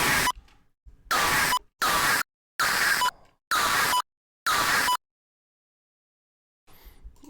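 Harsh synth screech driven through heavy distortion and a wave shaper: five loud, gritty, noise-laden bursts of about half a second each, separated by abrupt silences, followed by quiet and a faint noisy trail near the end.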